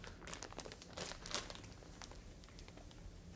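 Plastic wrapping crinkles and rustles around a rolled queen-size 350GSM fleece blanket as it is handled, a close, soft crackling that comes in bursts, busier early on and then thinning out.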